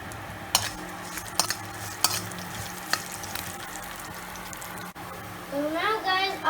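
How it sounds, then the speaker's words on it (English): Chopped green chili frying in a pan with steady background sizzle, punctuated by sharp clinks of a utensil against the pan; a whistling tonal sound rises near the end. "And then we're gonna add the chopped green chili in it."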